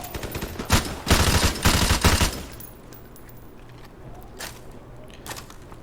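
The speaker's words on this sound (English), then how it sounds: "People are actually shooting from the 2nd floor now." Gunfire in Call of Duty Modern Warfare Remastered, with loud close bursts of rapid shots during the first two seconds, then a quieter stretch broken by a few scattered distant shots.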